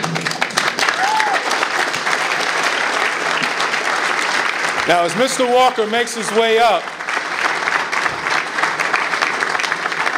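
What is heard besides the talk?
audience applause at an award ceremony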